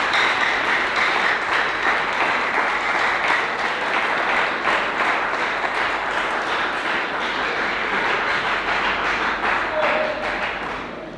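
A church congregation applauding during a Sunday service, sustained dense clapping from many people that holds steady and close throughout.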